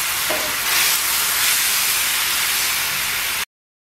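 Fish pieces dropped into spiced masala frying in a pan, a loud continuous sizzle and hiss close up that cuts off abruptly at the end.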